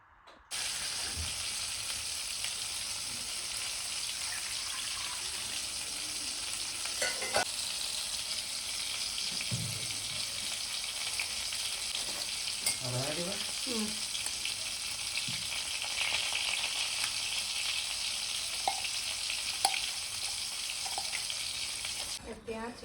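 Chicken cooking in a pan on the stove gives a steady, continuous sizzle and hiss for the whole stretch, with a few faint clinks and soft knocks here and there.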